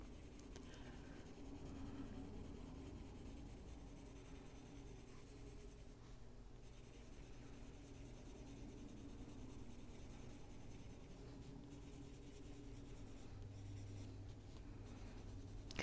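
Colored pencils scratch and rub steadily on paper while shading skin tones, a faint, close, continuous scraping with small pauses and no talk.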